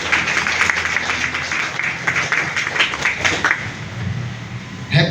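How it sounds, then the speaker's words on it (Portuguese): A church congregation applauding during a Catholic preaching, a dense, sustained patter of clapping filling the space for several seconds before it tapers off. "Fique aplaudindo. Aplauda."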